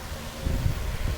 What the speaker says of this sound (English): sorry for the wind noise from the fan